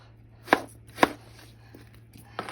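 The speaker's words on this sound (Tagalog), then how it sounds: "maghiwa tayo ng putito" A knife chops potato on a cutting board for pork adobo, two sharp close knocks about half a second apart, then fainter taps and a final chop.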